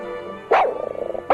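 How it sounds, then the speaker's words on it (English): A dog barks twice, loud and close, with a faint yipping or whimpering sound between the barks; no one speaks. "Meet my dog, Sparky."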